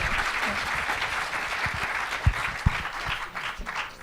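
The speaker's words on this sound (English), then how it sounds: "A round of applause." Applause follows a keynote at a 2019 technology conference: steady clapping from a seated audience, with a few sharp, close individual claps standing out near the middle.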